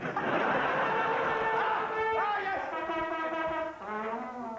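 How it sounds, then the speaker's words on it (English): A brassy horn plays a short rising and falling call of held notes, fairly faint, over a murmuring background. "That is the sound of a man playing the bugle."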